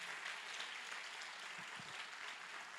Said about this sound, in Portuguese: Vamos aplaudir mais uma vez ao Senhor